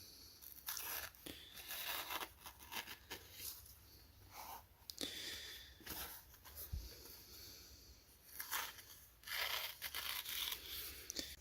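A sharpened knife edge drags and snags through a paper towel in a series of short rasping tears and scratchy swipes, close up and fairly quiet, with no talk.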